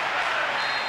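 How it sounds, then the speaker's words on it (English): A broad, steady crowd roar with scattered applause swells from a stadium as the final whistle blows in a Manchester United versus Bayern Munich 1999 Champions League final football game, loud and continuous throughout a single second. "A huge roar from the crowd as the referee blows the final whistle"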